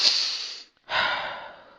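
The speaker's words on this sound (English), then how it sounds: "you breathing in was uncomfortable to listen to" Two close, breathy inhalations drawn through the nose or mouth, separated by a short pause, loud and alone with no talk.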